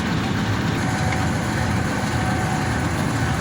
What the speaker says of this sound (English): 4556, very, very, very huge and heavy locomotive.